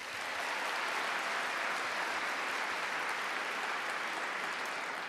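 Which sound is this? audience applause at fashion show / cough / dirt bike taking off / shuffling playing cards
audience applause at fashion show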